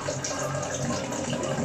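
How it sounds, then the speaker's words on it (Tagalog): Water pours steadily into a pot of tinola chicken soup in a home kitchen, a continuous close splashing rush lasting the whole moment with no talking. "So, dagdag pa tayo ng konting tubig."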